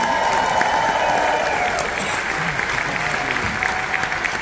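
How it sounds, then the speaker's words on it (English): Audience applause at a headliner show aboard the Royal Caribbean cruise ship Odyssey of the Seas, a dense sustained clapping from a crowd filling the room, fairly loud and steady, with a voice faintly underneath. "round of applause."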